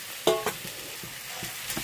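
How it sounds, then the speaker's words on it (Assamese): Fried potato pieces drop into a pan of sizzling Bengali-style fish curry, a few sharp clattering hits over a constant hiss of hot oil, followed by lighter scraping taps. "তাৰপিছত আমি এই ভাজি থোৱা আলুখিনি ইয়াতে"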